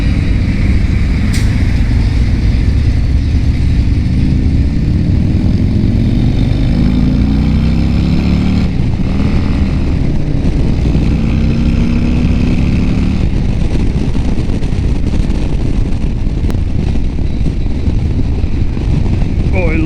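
A 2022 Harley-Davidson Road Glide ST engine drones continuously while riding, with shifting rev tones over heavy wind rush, loud and close throughout.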